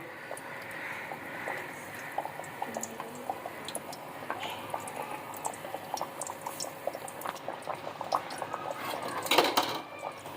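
Methi tikiyan fry in oil over a low flame with a soft, steady bubbling and scattered small pops and drips, fairly quiet and close, swelling briefly near the end.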